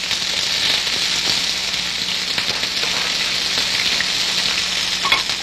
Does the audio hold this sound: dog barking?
no